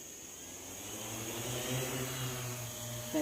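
A multirotor drone running a RadioLink MiniPix flight controller hovers in position hold, giving a steady whirring, buzzing drone with slowly wavering pitch, moderately close and fairly quiet, with no voices.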